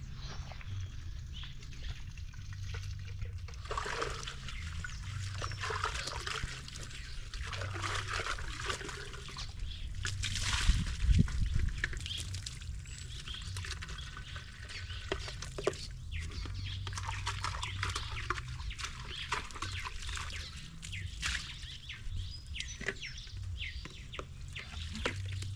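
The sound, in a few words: washing the chickens' water tin with clean water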